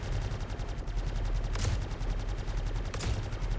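Video game gunfire crackles in rapid, even bursts, like a machine gun firing steadily at moderate distance, with two slightly sharper volleys standing out over a constant low rumble.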